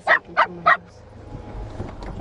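Several dogs in a household, one giving three sharp, close barks in quick succession, followed by a quieter stretch of low rumbling background noise.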